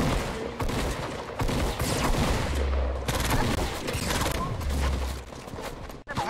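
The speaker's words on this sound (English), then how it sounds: "I'm getting shot at." Gunfire in an online shooter video game: dense, sustained bursts of shots and clattering mechanical sounds, loud and close, running almost continuously for several seconds with only a brief break near the end.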